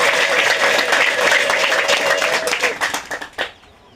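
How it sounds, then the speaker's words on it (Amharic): Church congregation clapping together, a dense, steady round of applause that thins out and fades to quiet over the last second. "አጨብጭቡ ለጌታ ክብር።"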